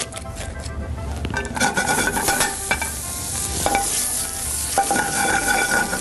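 Spätzle reheats in melted butter in a frying pan, a constant crackling sizzle mixed with repeated scraping and stirring of a utensil against the pan, fairly close and loud, and nobody speaks.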